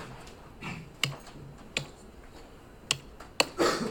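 Keys on a computer keyboard are tapped in a short, uneven burst, a few sharp clacks standing out among softer presses in a quiet room.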